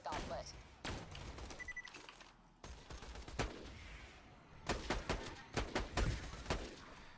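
Gunfire in Borderlands 2 from a sniper rifle and other guns, sharp cracks and quick bursts going off in scattered clusters, with someone talking over some of the shots.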